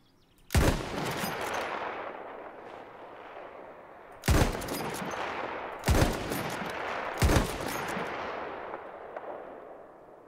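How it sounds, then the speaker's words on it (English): Gunfire in the Battlefield 1 video game on the Monte Grappa map: four loud, sharp sniper rifle shots spaced a few seconds apart, each followed by a long echoing tail that rolls away into the distance. "The sound is simply superb, especially with sniper rifles in Monte Grappa"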